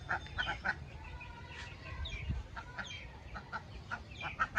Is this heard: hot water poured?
no